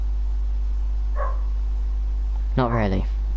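Dog barking inside the Fortnite video game, a short burst of several quick harmonic yelps near the end, preceded by a faint brief sound, over steady low game hum.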